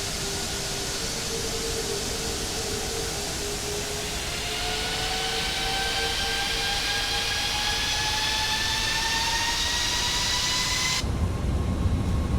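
The jet engines of an Airbus A340-600 in Microsoft Flight Simulator spool up for takeoff, a broad roar with whining tones rising steadily in pitch before cutting off abruptly.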